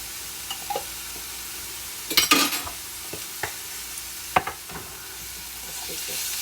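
Food frying in oil in a pan is stirred with a soft, steady sizzle underneath. Sharp scrapes and clinks of the utensil come at irregular intervals, with a louder burst of stirring near the middle.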